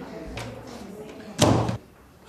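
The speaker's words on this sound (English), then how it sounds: "close the door." A door is shut with one solid, close thud about midway through, preceded by a few faint knocks and shuffles in an otherwise quiet room.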